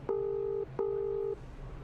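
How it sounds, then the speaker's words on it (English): A cell phone call tone in the video game House Hunted 2 sounds as two evenly spaced, steady electronic beeps, each about half a second long, clear and alone over a faint background hum. "You quickly pulled out your cell phone and called up the apartment company."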